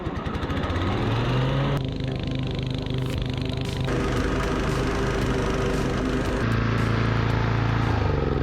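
Lawn mower engine running steadily and loudly while mowing, close by, with its droning pitch dipping and rising slightly under load.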